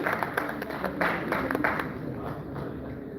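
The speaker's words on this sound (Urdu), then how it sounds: "زوردار تالیاں زبیر فاروق صاحب اسٹیج پر موجود ہیں" Loud, dense applause from an awards-ceremony audience at a poetry festival in Dubai as Zubair Farooq comes on stage, steady clapping throughout with no voice over it.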